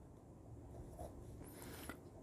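Pen scratching across paper while writing out an accounts problem, faint close strokes and short scribbles spread over a couple of seconds, with no talking.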